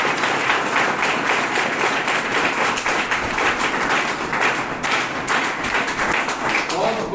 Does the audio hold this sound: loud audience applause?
yes